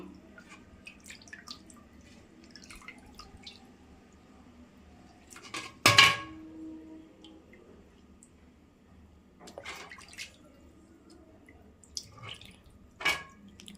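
Cut fish being washed in water in a home kitchen, with sparse drips and splashes and a sharp clatter of a metal pot or vessel midway, close and mostly quiet between sounds.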